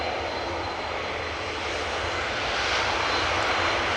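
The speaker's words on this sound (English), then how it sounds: "And here we have Delta Airlines flight 74, A350, 900." Delta Air Lines Airbus A350-900 jet at Amsterdam Schiphol Airport, a steady, loud broadband engine roar that holds constant and swells slightly toward the end, with no voices.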